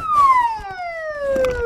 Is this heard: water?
no